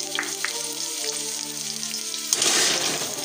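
Mixed vegetables, including peas, tipped into hot oil seasoned with green chilli, ginger and nigella seeds for veg chowmein, with a steady sizzle that swells into a louder, hissing fry near the end.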